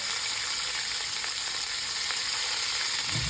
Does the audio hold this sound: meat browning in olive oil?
yes